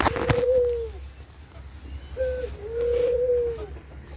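Turtle doves housed in small nesting boxes inside a farmyard aviary give soft, low cooing calls, several drawn-out phrases in slow succession over faint background noise.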